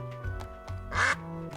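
A cartoon duck in the video game Duck Detective lets out a single bright, nasal quack over a soft game music backdrop, short and up front.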